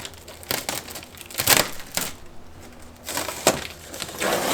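Paper envelope handled and torn open, several bursts of crinkling and ripping paper at close range with short pauses between, no talking.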